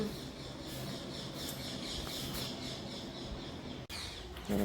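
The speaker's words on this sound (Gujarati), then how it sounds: "સરસ મજાનો પોપટ આવી ગયો છે" A parrot squawks in a household setting amid a dense, fairly faint background hiss and chatter, with a short dropout near the end before another burst of sound.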